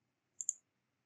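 Computer mouse clicking a link in a web browser, a quick double click, two sharp near taps in close succession in otherwise quiet surroundings.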